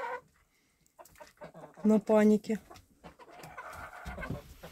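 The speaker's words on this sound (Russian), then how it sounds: "Купили мы новых куриц." Hens cluck in short, loud bursts close by, interspersed with people talking; a busy farmyard murmur fills the background.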